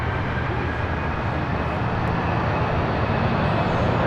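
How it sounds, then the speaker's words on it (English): A United Airlines Boeing 787-10 Dreamliner takes off at LAX, giving a continuous, dense engine rumble that stays loud and even and builds slightly toward the end, with no talk. "This is United Airlines Flight 32 taking off to Tokyo Narita on a 787-10"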